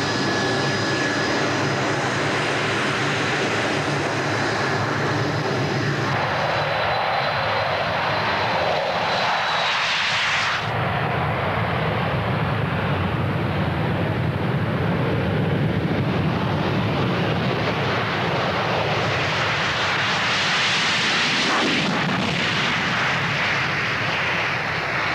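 RAF Blackburn Buccaneer jet, an ex-Royal Navy aircraft, roars loudly and continuously in flight, with the engine tone shifting and swelling over the pass and no talk.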